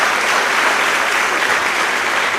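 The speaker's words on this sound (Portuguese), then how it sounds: "Dê uma salva de palmas a Jesus." A church congregation gives a sustained round of applause, a dense, steady clapping from many hands filling the room for a couple of seconds, with no talk.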